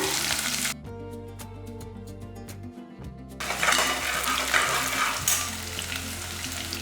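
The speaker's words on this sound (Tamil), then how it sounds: "வெங்காயம் நல்லா வதங்கிடுச்சு" Shallots sautéing with fennel, pepper and curry leaves in hot oil, giving a steady loud sizzle with stirring scrapes; a tonal hum runs beneath the first part, then the frying noise swells fuller toward the end.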